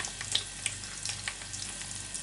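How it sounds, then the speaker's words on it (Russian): Ide fish ribs fry in a hot pan with a steady sizzle, a continuous crackling hiss with occasional sharper pops. "Сейчас все обжариваем с одной стороны"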